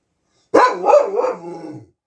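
A dog lets out a single short burst of barking and yipping, starting abruptly and trailing off after about a second and a half, close and fairly loud with no talking over it.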